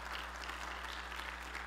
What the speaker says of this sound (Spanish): Un aplauso para todas las mujeres que están en casa.